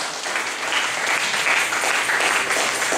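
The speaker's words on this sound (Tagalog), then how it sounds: "Pumalakpak ako ng sobrang lakas." A church congregation applauds loudly, a dense, steady wash of clapping from many hands that holds for the whole stretch without pause.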